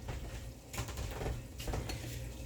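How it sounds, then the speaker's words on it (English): Seasoning is stirred into a cup of diced tomatoes: soft, quiet clinks of a utensil against the dish come in two small bursts over a faint, muffled background. "stir 2 tablespoons of our seasoning into a cup of diced tomatoes"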